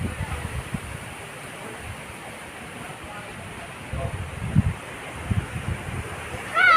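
Soft, steady wind rushes through a backyard on a windy afternoon, a low continuous hiss with a few stronger gusts toward the end.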